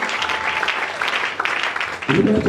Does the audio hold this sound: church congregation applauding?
yes